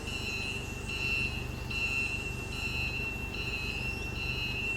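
A forklift's reverse alarm beeps during a pre-use inspection, a steady series of evenly spaced high tones, about five or six in all, over a loud constant engine hum.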